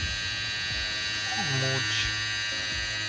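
An electric razor buzzes steadily while cutting a beard in a makeover video game, a continuous close hum with a few brief tonal chimes rising over it and a voice speaking.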